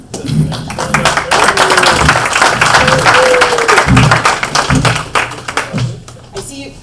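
Audience applause at a Pearl Harbor remembrance ceremony, a dense burst of hand clapping that swells, holds, then thins into scattered claps, with voices faintly underneath.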